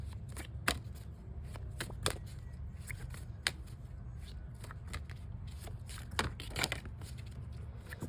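Tarot cards are shuffled by hand, a series of quick crisp riffling snaps and slaps at irregular intervals, close but quiet, with no one speaking.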